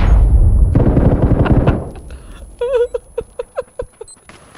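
Gunfire in PUBG: a loud burst of shots opens, followed by a string of sharp, separate cracks spaced about a third of a second apart that fade slightly toward the end.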